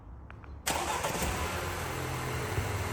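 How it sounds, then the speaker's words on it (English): A 2022 Mercedes GLB 200 engine starting after a short quiet moment, catching at once and settling into a steady idle nearby. "just turn the vehicle on with the lights"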